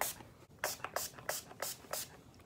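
Coconut heat protectant mist sprayed onto hair in a run of about six short, close hissing bursts with brief pauses between them.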